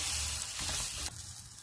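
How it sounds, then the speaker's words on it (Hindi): Pearl millet roti sizzling on a buttered hot griddle, a soft steady crackle and hiss heard close and quiet, with no voices. "तवा गर्म हो गया, इस पर हम मक्खन लगा लेंगे। और इस पर हम रोटी डाल देंगे।"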